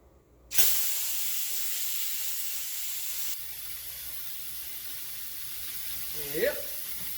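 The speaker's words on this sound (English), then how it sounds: "it seems like we might be able to sear some steak here with this" Steak dropped into a hot pan for a New Mexico breakfast burrito, a sudden loud sizzle that settles into a steady bright hiss and continues under the cooking, with a brief voice near the end.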